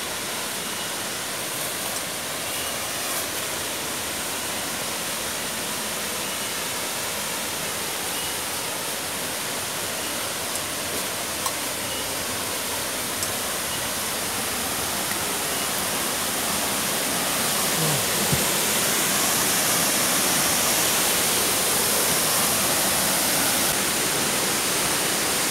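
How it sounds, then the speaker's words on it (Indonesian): Constant roar of falling water at Curug Ciung, a hidden waterfall below a hill, heard close and loud as a dense unbroken rushing noise that swells slightly toward the end. "Jadi air terjun ini berada di wilayah,"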